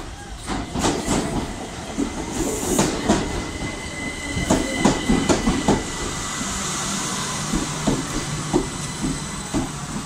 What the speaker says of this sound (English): That was the train that we just caught.